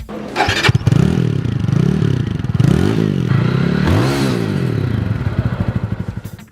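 A TVS Apache RTR 200 motorcycle engine revs up and down close by, loud and throaty, with rising and falling pitch sweeps, then settles into a pulsing, lumpy idle.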